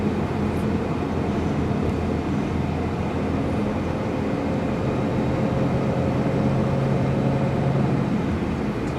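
A Subaru Impreza 2.5RS engine is held at steady revs around 3,000 RPM, a loud, continuous droning hum that stays even for the whole stretch with no voices.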